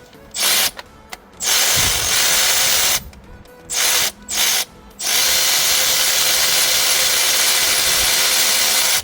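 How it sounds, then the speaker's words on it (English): An electric ratchet loosens a bolt on the water pump of a 12th-generation Toyota Corolla E210. It whirs in several short loud bursts, then runs in one long continuous spin close by. "I should be able to get to this with my electric ratchet now and get it out completely."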